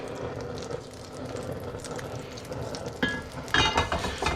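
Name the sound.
butter sizzling in a pot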